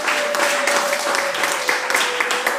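A church congregation applauding, a dense, steady wash of clapping from many hands, with a sustained tone held underneath.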